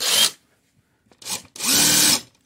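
A cordless power drill whirs in three short bursts: a brief spin, a quick blip, then a longer steady run with a rising motor tone, close and loud with quiet gaps between.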